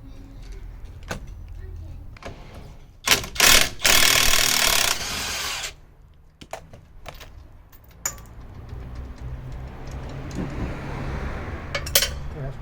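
Hand tools loosen a front strut bolt on a Fiat 500, with scattered clicks and metallic knocks, then a loud, harsh burst of ratcheting or grinding lasting about two seconds, followed by lighter clinks and taps.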